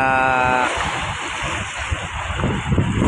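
Strong southwest monsoon wind and big waves at sea on Manila Bay, heard as a steady loud roar of wind and surf with the rush of water close by throughout.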